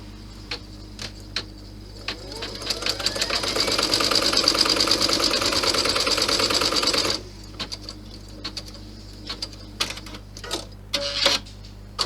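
An embroidery machine stitches placement lines onto stabiliser in a hoop for a golf ball bag, a close rapid rattling buzz that builds from scattered ticks, runs steadily for a few seconds, then cuts off, followed by intermittent clicks.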